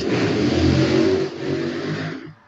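A motorcycle engine revs loudly close by, a rough mid-pitched roar that dips briefly, surges again, then fades out.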